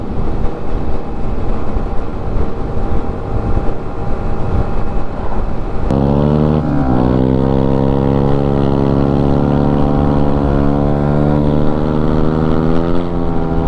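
Another rider's motorcycle roars past a 125cc Yamaha MT-125 on a sunny road ride; heavy wind rumble first, then a loud engine note whose pitch sweeps as the bike goes by and pulls away.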